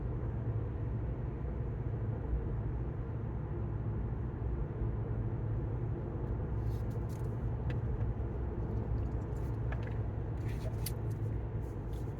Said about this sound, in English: I thought, well, I'm going to take a drive.